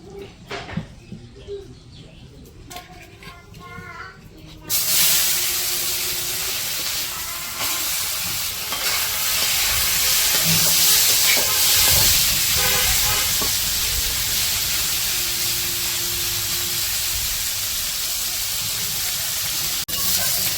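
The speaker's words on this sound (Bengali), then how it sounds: "এখন এই যে কড়াইয়ে তেল দিয়ে দিল মাছগুলো ভাজবো" Quiet background at first, then a sudden loud hiss as fish hit hot oil in a wok, settling into steady vigorous sizzling that continues to the end.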